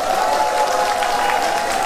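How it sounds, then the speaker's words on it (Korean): An audience claps steadily and evenly to welcome the county governor at an outdoor Yeongdong County Citizens' Day ceremony in the rain, a brief, dense wash of applause. "군수님을 따뜻한 박수로 맞이해 주시기 바랍니다"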